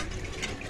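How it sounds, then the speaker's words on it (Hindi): Water pours steadily into a container at a home water point in Sujawal, Sindh, Pakistan, a continuous close splashing rush with no talk over it. "ये पानी भर रहा है।"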